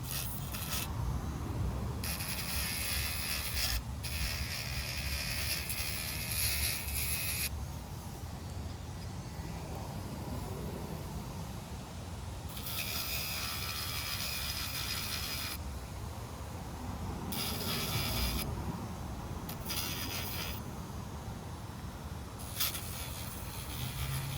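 Grinding down a small plastic or metal part during an SCX24 Jeep servo install, a continuous close rasping rub in long passes broken by brief pauses, with no talking.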